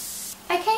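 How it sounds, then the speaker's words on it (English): Hairspray misted onto styled hair for a low ponytail updo, a brief close hiss that starts, pauses, then sprays again with a bright airy rush. "So I'm just gonna spray some."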